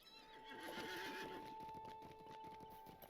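Horse whinnying and clip-clopping hooves in the Lord of the Rings Online game as a character mounts up, a loud neigh early on followed by steady rhythmic hoofbeats against a constant background tone.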